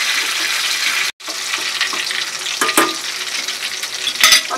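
Onions fry in hot oil with a close, steady sizzle for a tempering for mutton dal gosht, punctuated by a few clinks and scrapes of stirring.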